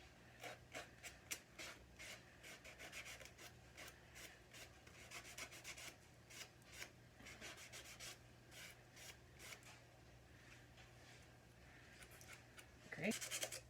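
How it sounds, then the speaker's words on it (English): Wooden pieces are sanded by hand, giving steady rasping strokes in irregular bursts, close and moderately loud, with a constant low hum underneath and a slight knock near the end. "We're gonna sand all these down as well."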